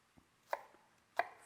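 A knife chops thinly through an onion on a cutting board, giving two or three sharp, close taps with quiet gaps between.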